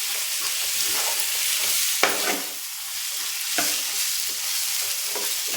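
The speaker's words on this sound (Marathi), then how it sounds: "मेथी घालून घेऊ आणि हे फ्रोझन मटार आहे ते पण घालायचं आहे यामध्ये आणि सगळं एकजीव करून घेऊ" Fenugreek leaves and frozen peas stirred in a hot pan, a steady close sizzle with a few sharp scrapes of the spoon against the pan and no talking.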